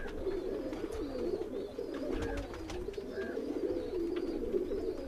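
Breeder pigeons in a loft, one sitting on its chicks, give a steady, rolling low cooing that carries on for the whole stretch, with faint higher chirps over it.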